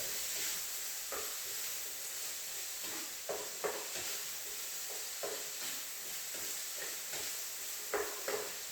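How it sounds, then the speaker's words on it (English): Burrito filling with sweet corn fries in a pan under a steady, soft sizzle and hiss, with occasional light scrapes and stirring taps, quiet and continuous without talking. "Yeah, that's frying away."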